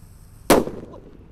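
A single sharp firecracker bang goes off in a hole in the ground, loud and close with a short dull rumble after, set against quiet outdoor background.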